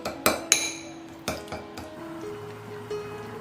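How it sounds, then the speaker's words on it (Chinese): Red fermented tofu (nanru) is mashed in a bowl with a utensil, giving a few sharp clinks and taps against the bowl, close and fairly quiet, with soft ringing between strikes. "把南乳给它捣碎"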